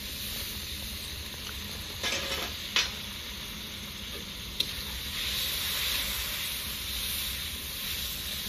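Steady hissing sizzle from a hot pan of spiced curry masala as a little water is added, with a few stirring clinks and scrapes over the continuous frying noise.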